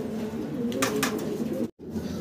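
A pigeon coos close by in low, throaty repeated notes, steady and clear, with a brief cut near the end.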